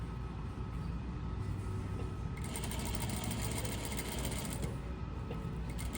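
Sewing machine running steadily while stitching a muslin notched collar, a continuous close mechanical whir that brightens and speeds up partway through, with no talk over it.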